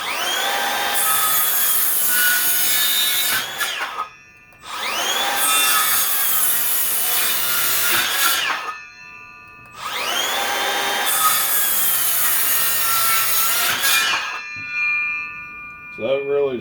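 A Makita XSH04 sub compact cordless circular saw cutting lumber in three loud, close cuts, each a rising whine into a harsh ripping buzz, with short pauses between and the motor spinning down at the end.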